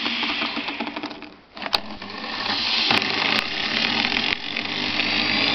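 Wood lathe motor running steadily at reduced speed, a loud continuous whine and hum with a brief dip and a few sharp clicks as a button is pressed.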